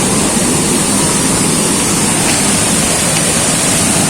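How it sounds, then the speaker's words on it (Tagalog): Steady, loud roar of Dipalyon Falls in General Nakar, Quezon, a dense unbroken rushing hiss that stays constant throughout, heard up close with no voices. "Ito na yung Dipalyon Falls."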